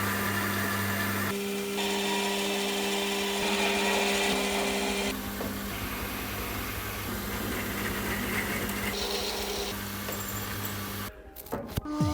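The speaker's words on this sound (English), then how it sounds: "The ends of this bar need to be machined on a lathe." A lathe machines the ends of a 25 mm by 540 mm steel bar, giving a steady, close mechanical whine and hum with shifts in tone before cutting off near the end.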